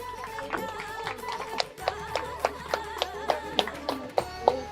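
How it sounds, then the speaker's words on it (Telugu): A crowd at a pyramid opening ceremony gives a round of applause, a steady run of claps under a continuous background hum, with sharper rhythmic claps standing out near the front. "వీరిద్దరికి ఒకసారి గట్టి క్లాప్స్ కొడదాం."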